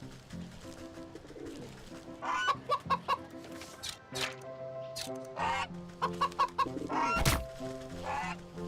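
A goose in the video game Wytchwood honks in repeated short bursts, loud and near, the calls clustering in quick runs separated by brief pauses, with no talking.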